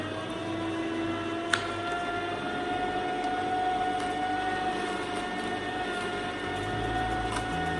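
Electric juicer motor whirring steadily while fruits and vegetables are fed in, a continuous close mechanical drone with a high whine, a single sharp click early on and no talk.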